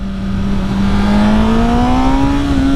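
A stock Honda CBR1000RR sport motorcycle engine revs loud and close, its pitch climbing smoothly in one sustained run with no talking over it.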